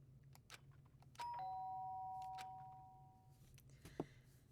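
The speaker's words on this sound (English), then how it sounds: "did I hear the doorbell?" A doorbell chimes in the Danganronpa video game, a clear two-tone electronic ding-dong that rings out and slowly fades over a faint low background hum, followed by a brief soft tap.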